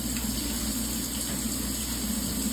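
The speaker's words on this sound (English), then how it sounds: "So I'm going to get some water." Water runs steadily from a kitchen tap while cooking smothered pork chops, a constant faint gush at moderate distance with no talking.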